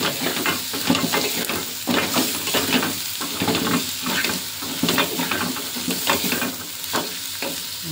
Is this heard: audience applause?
no